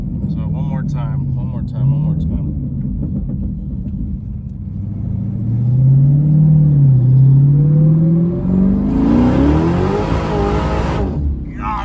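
A Dodge Demon's engine revs hard from idle, the pitch sweeping up and hanging high before dropping back, loud and close with a rising roar near the end; someone talks briefly at the start.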